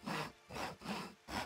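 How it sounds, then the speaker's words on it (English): Logs sawn into planks in Townsmen VR, four rhythmic back-and-forth saw strokes rasping through wood, close and even in pace. "So she's sawing up the logs, turning them into planks."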